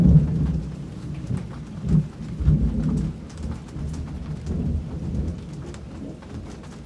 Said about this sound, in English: We anchored just in time before this storm hit.